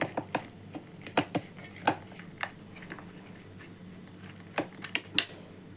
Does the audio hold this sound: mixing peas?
yes